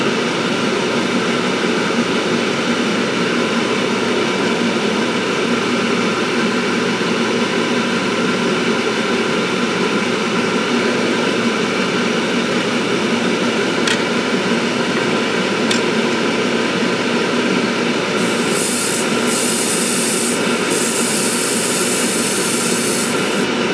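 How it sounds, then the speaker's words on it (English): A steady, loud airbrush hiss runs continuously as thick KColors paint struggles through at full thickness, with a sharper burst of spray near the end; no voices. "It is definitely struggling to come out of this airbrush at full thickness."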